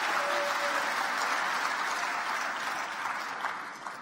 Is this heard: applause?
yes